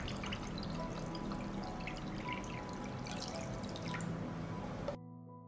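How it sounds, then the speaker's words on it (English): Water pours and trickles steadily into a pan holding jars, filling up to the jar lids, with dripping and splashing over a few seconds before it stops. "I pour water up to the height of the lid."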